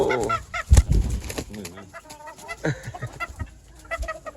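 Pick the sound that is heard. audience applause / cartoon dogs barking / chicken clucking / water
chicken clucking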